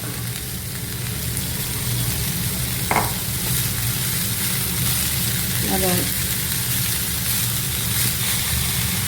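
Chopped spinach (palak) hitting a hot pan for palak paneer curry, giving a steady close sizzle with occasional stirring scrapes and utensil clinks throughout.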